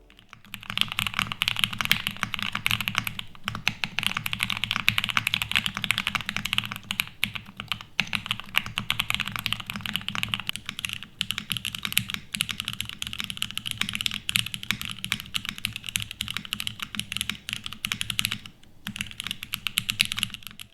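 Continuous fast typing on a mechanical keyboard, dense clacky keystrokes in a steady stream, close and clear with no voices.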